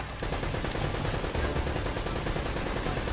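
Sustained automatic gunfire in Uncharted: Drake's Fortune, a dense rattling burst of rapid shots lasting the whole stretch, loud and close with no speech.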